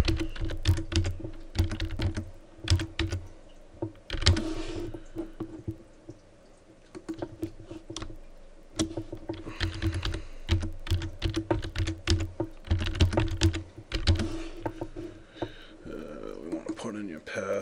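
Someone typing a password on a computer keyboard during a Linux desktop installation, irregular bursts of close key clicks with short pauses, while a person talks over them.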